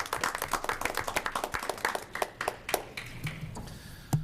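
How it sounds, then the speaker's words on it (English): A small group at a school board meeting claps, the claps distinct and countable rather than a dense roar. The clapping starts briskly, then thins to a few scattered claps and fades out. "Can we applaud now?"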